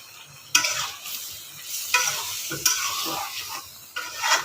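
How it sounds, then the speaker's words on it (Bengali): Turmeric and chili spices sizzle in a pan with a little water while a spatula stirs and scrapes them in repeated strokes, close and fairly loud. "পানি দিয়ে ভালো করে কষিয়ে নিচ্ছি"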